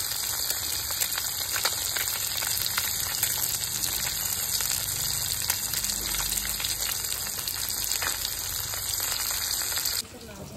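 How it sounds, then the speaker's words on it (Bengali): Chapila and khoira fish fry in oil in a wok, a dense, steady, close hiss of sizzling oil that runs unbroken and then drops off sharply near the end. "সব মাছগুলো ভেজে তুলে নিচ্ছি।"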